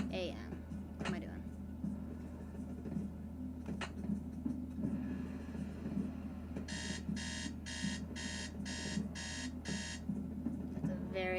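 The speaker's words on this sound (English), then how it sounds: "That's a very obnoxious alarm." Alarm clock in a Nancy Drew video game rings in about six sharp, evenly spaced electronic bursts over a steady background hum, loud and repetitive.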